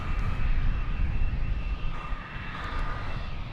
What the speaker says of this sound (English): It's an Airbus A220.